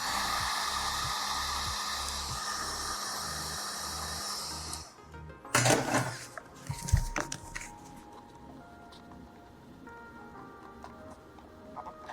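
Hot air from a heat gun or hair dryer blowing steadily across a vinyl skin on an Asus ROG Xbox Ally handheld (2025), a loud broadband hiss that cuts off midway, followed by a few handling clicks and quieter room noise.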